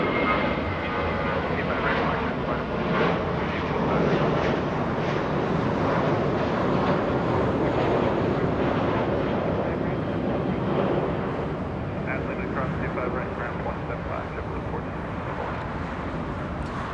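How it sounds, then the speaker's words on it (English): American Airlines jet departing Los Angeles International Airport, a loud, broad engine roar sustained throughout with wind buffeting, close and continuous. "The departure. American 1416 heading to Phoenix, Arizona as JetBlue gets a move on"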